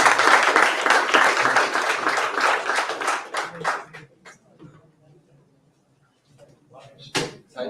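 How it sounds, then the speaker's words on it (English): An audience at an installation ceremony gives a dense round of applause for the chief guest. The clapping fades out after about four seconds into near quiet, with a few scattered sounds afterward. "Let us give a big round of applause."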